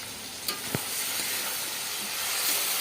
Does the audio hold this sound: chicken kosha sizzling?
yes